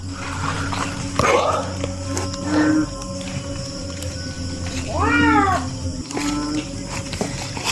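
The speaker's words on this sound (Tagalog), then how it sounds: "Pusa." A cat meows several times nearby, drawn-out wavering cries spaced a few seconds apart over a low background hum.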